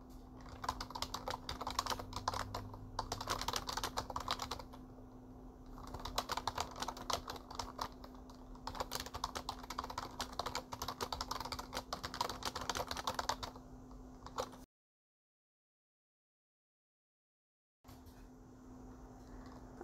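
Steady close typing on a computer keyboard, entering a product description for an online store, bursts of rapid clicking with short pauses between, then a gap of silence before the keys resume, over a low constant hum.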